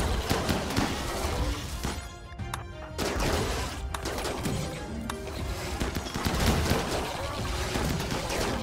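Stray gunfire from shooters in a video game crackles as a dense, continuous burst of shots and impacts, loud and close, with a short lull partway through.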